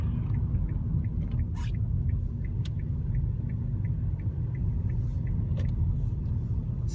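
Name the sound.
Kia Rio Eco car driving, leaving the main road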